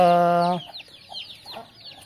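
A harmonic call from a Kaki breed hen rings out clearly at the start, then gives way to quieter chirps of young chicks nearby.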